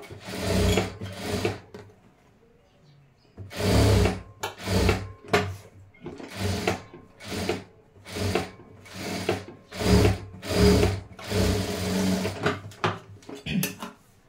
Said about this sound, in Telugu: చుట్టూరు నెక్ చుట్టూరు ఒక కుట్టు అనేది వేసేసేయండి. పెద్ద కుట్టు పెట్టుకొని వేసుకోండి కుట్టు.